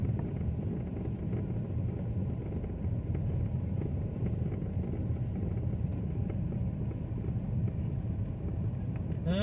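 A car rolls slowly through a residential subdivision in Alabang, with a low, steady rumble of engine and tires close by and no pauses.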